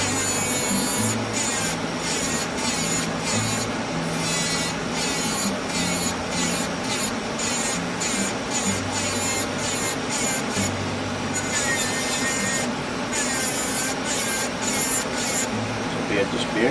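Fine green comb rasp carving wood for a black-capped chickadee bird carving, making continuous close scraping and rasping strokes in a quick steady rhythm, loud and dense throughout.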